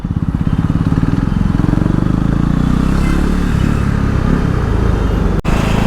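A KTM Duke motorcycle fitted with a barrel exhaust rides steadily, its loud, close engine thrumming in a fast, even pulse with a slight rise in revs before a brief dip near the end.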